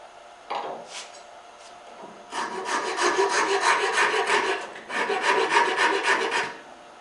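A chisel carves and rounds the knee of a wooden bench leg, giving close, rasping scraping strokes: a brief scrape, then two longer sustained bursts of shaving against the wood.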